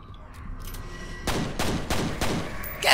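Gunfire in the video game Point Man's Mind: after a quiet, faintly humming lead-in, four loud evenly spaced shots ring out in close succession, followed by a bright metallic clatter at the end.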